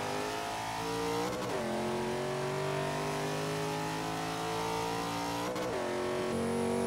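A 2002 Chevrolet Camaro's engine drones loudly in Forza 5, its pitch climbing steadily through the revs with two quick dips at gear shifts, continuous and close without any talking.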